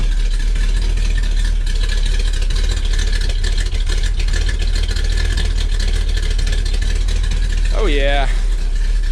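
A 1965 Corvette engine idles with a steady, loud, low exhaust rumble that holds throughout, and a short spoken exclamation briefly rises over it near the end.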